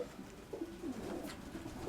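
A hand-held Vitrovi pigeon coos softly in a short, low rolling call over a faint outdoor background hum.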